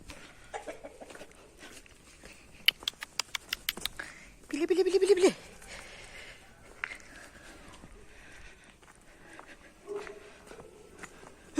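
Chickens cluck and squawk nearby in short bursts, with a louder flurry of calls midway, amid quiet village outdoor sounds and a few taps.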